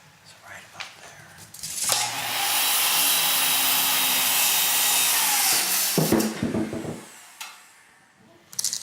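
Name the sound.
sawing off a wooden railing post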